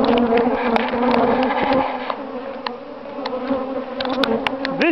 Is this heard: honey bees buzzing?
yes